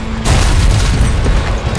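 A Union musket volley at the Battle of Gettysburg breaks out after a brief quiet start, a sustained loud crash of massed gunfire rolling on without pause.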